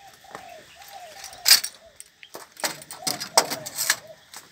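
A spotted dove, freshly caught by bird trappers in Phú Yên, Vietnam, and held in hand, gives a few soft, repeated coos at the start, followed by scattered chirps, handling noise and nearby talk.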